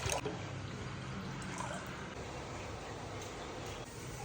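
A liter of water pours steadily into a cooking pot, a soft continuous splashing trickle heard up close and fairly quiet.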